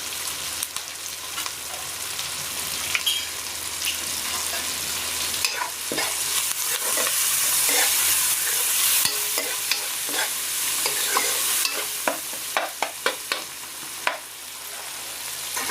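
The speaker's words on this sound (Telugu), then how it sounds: "2 మినిట్స్ ఇలా ఫ్రై చేసేసుకున్నాం." Upma with tomatoes and coriander sizzling in a pan, a spoon scraping and stirring in steady irregular strokes, close and fairly quiet with no talking.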